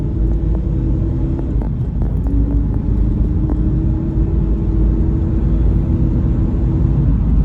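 Stock Toyota Prado 250 pulling hard from a standstill in a drag-style comparison, its engine a loud, steady low rumble that holds strong and continuous throughout, with no talk over it.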